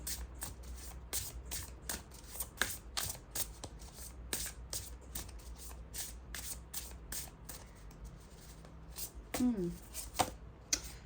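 A tarot card deck is shuffled continuously up close, with rapid repeated riffling and slapping bursts in an uneven rhythm and faint background voice and handling sounds beneath.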